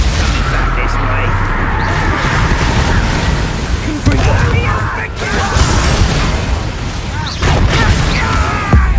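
Incendio fire spells cast during a fight in a Hogwarts video game give repeated loud bursts and whooshing blasts over busy combat noise, with voices talking through the fight.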